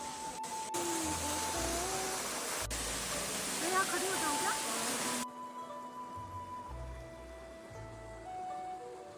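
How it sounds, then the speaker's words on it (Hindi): Jibhi waterfall near a wooden footbridge over a river in Himachal Pradesh, a loud steady rush of falling water that cuts off abruptly, with soft music playing underneath. "उसके बाद हम गए जीबी वाटरफॉल जो कि यहाँ का सबसे फेमस है।"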